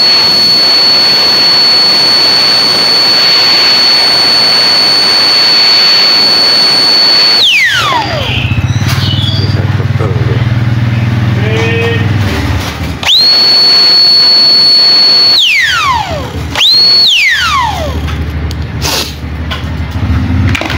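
A cordless turbo fan blows with a loud, steady jet-like roar and a piercing high whine, then cuts off and spins back up several times, the pitch sweeping down as it slows and climbing as it restarts.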